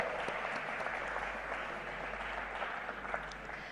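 Steady applause from a conference audience at a biotech event in a convention hall, moderately distant and even, with a faint low hum underneath.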